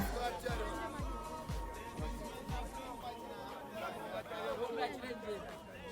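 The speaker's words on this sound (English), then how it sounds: "You guys just listen to the crowds." A bustling bus station crowd murmurs in overlapping chatter, many voices blending into a steady babble, with a few dull low thumps repeating near the start.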